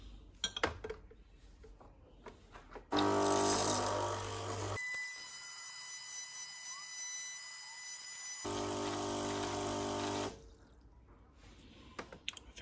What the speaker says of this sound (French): Ouvrir le robinet et on va être parti pour amorcer un peu le filtre et faire passer un peu d'eau dedans.